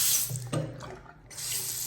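Water running from a tap in a condo, a steady splashing flow into a sink with a short interruption midway.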